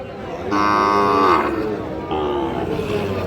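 A Sahiwal breed bull calf gives two loud, drawn-out moos close by, the first longer and rising, the second lower, with faint background noise of a cattle market.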